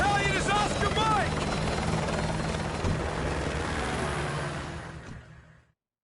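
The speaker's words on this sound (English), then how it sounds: "Use my helicopter." Helicopter in the video game Modern Warfare 2 Remastered, a loud, close, steady rotor roar. It runs under brief voices early on, then fades out near the end.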